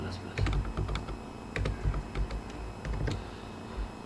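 Keys clatter on a computer keyboard as code is written in a Bootstrap 4 tutorial, with irregular bursts of close, crisp taps and brief pauses between them.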